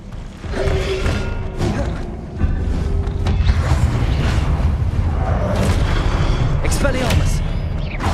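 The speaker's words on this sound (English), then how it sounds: "Expelliarmus!" A spell cast in Hogwarts Legacy erupts as a loud boom with thudding impacts and rumbling game effects that sustain through the clip, while a voice talks over the dense soundscape.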